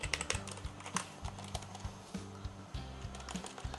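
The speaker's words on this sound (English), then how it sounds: "So this is a mechanical keyboard," A SteelSeries Apex Pro RGB mechanical gaming keyboard with OmniPoint switches is typed on rapidly and up close, producing a dense, quiet patter of clicking keystrokes with no talk.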